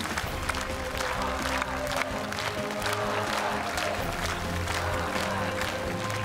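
Studio audience applause for a Russian horn orchestra on a televised talent show, a dense, steady wash of clapping that holds at an even level throughout, with tonal music sustained underneath.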